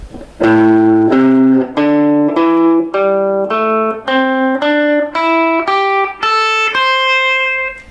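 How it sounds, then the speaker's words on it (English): A plucked guitar plays a rising blues scale of single notes one at a time, clear and evenly paced, each ringing briefly before the next. "So today I'm going to show you what's called the blues scale."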